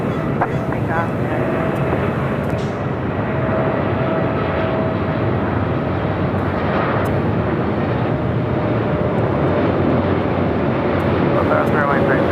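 An airplane taking off from runway 24 left at LAX makes a loud, sustained broadband roar that holds steady throughout, with a thin tonal whine riding on top.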